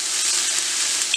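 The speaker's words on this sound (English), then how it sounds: "And we're just going to let this saute, guys." Green beans sauté dry in a hot pan with no added liquid, giving a steady, close, even sizzle that holds throughout without a break and with no one talking over it.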